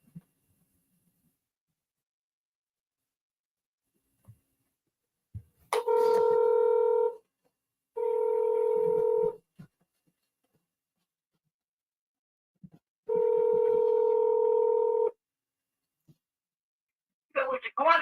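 A telephone dials the city hall number in Coldwater, Ohio: three long, clean electronic tone bursts separated by silent gaps, with a few faint clicks and a brief sound at the very end.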